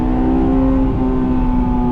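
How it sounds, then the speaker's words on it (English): Honda S2000 (2001 AP1) engine humming loud and steady with a strong tonal drone, a sustained rev held close-up with no speech, likely driven on a winter road. "You get to make cool noises and get transient VTEC response like that"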